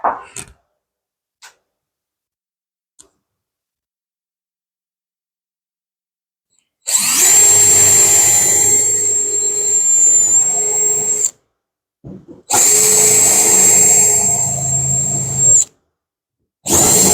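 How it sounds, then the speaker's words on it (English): A power drill with a 1/8 bit whines in two sustained bursts, grinding through a car hood and scoop up close, separated by a brief pause, with a few faint clicks beforehand. "Drilling a hole in that hood and scoop."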